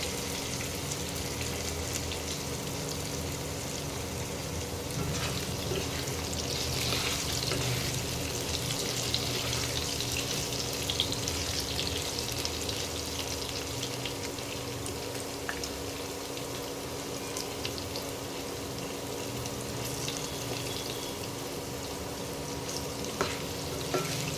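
Potatoes frying in oil with tempered spices give a steady close sizzle with faint crackles and an occasional stir, running alone without voices.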